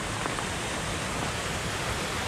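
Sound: waterfall with downdraft, mist and spray on coastal path

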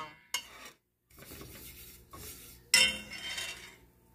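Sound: Stirring flour and vegetable oil in a pan to brown

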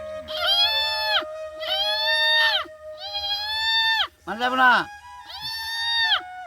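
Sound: man imitating a goat bleating

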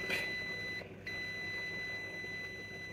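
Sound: multimeter continuity beep

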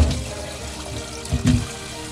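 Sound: tap water poured into a bucket for washing potatoes

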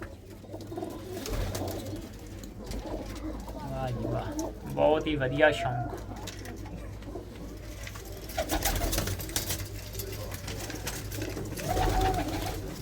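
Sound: pigeons cooing

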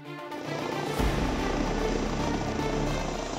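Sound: helicopter flying

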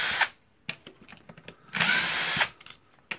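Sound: power tool unscrewing the gear housing screws of a Makita BDF454 drill

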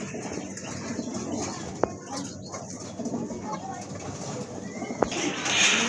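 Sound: pigeons cooing

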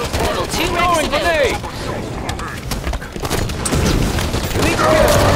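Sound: gunfire in video game Halo 5 Warzone

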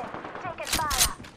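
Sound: gunfire from Apex Legends video game

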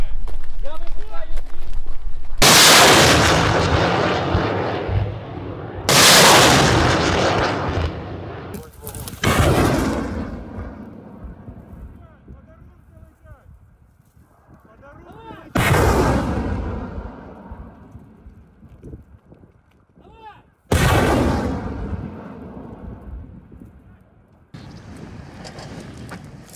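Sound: mini Grad rocket launcher firing rockets

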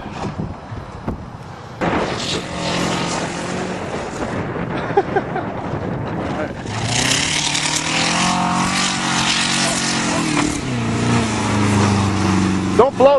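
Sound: Saturn car engine driving on farm

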